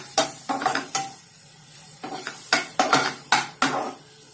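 Mushrooms and mixed vegetables sautéed in a pan for an Indian-style white sauce pasta: a spatula clinks and scrapes against the metal pan in uneven bursts over a soft, steady sizzle, with no voices.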